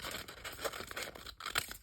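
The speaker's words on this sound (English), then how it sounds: "So just using scissors just to carefully" Scissors cutting around appliqué fabric shapes backed with Bondaweb fusible web, quiet close-up crisp snipping and crinkling in short uneven bursts, with no talking.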